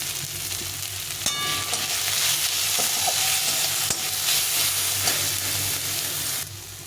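Spiced masala with cumin powder and Kashmiri chili powder sizzles steadily in a pan while a spoon scrapes and stirs it, with a continuous close frying hiss and scattered clinks throughout.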